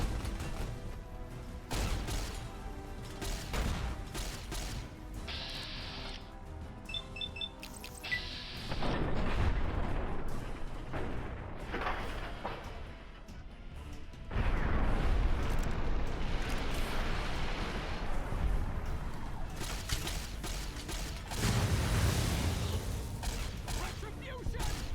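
Grenade blasts in Fallout New Vegas come as several heavy, rumbling bursts between stretches of clanking game noise and music, loud and spread across the scene, with some talk around them.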